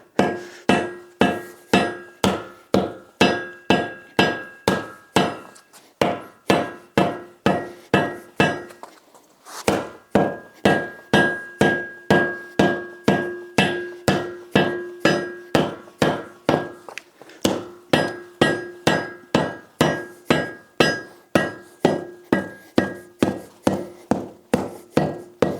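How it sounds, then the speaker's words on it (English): Hammer blows drive a beadlock ring onto an RRW hybrid mono-forged wheel, a steady series of loud, close metallic strikes about one per second, pausing briefly near the middle before resuming. "now that the hammering is done"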